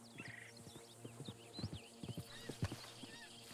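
Horse hooves clip-clop in the video game Red Dead Redemption 2, irregular walking hoofbeats on hard ground at close range, with birdsong chirping faintly in the background.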